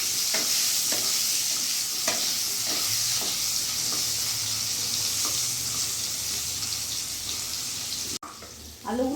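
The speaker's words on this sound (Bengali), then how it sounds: "আলুগুলো আমি হালকা শ্যালো ফ্রাই করলাম" Potatoes seasoned with salt and turmeric shallow-fry in oil with a steady, loud sizzle, broken by repeated scraping stirs of a spatula against the pan, then a brief pause near the end.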